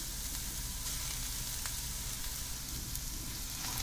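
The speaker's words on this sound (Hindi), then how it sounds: "किसी हुई गाजर डाल देंगे और इसको सॉटे करेंगे। अब हम इसमें डाल रहे हैं आलू।" Grated carrot and potato sautéing in a pan, a steady soft sizzle with faint stirring, continuous and close without any talk.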